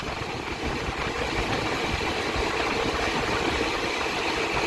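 A WAP5 electric locomotive running at full power hauls a passenger train from Anjar toward Gandhinagar, giving a steady, loud, unbroken rumble and roar with no voices.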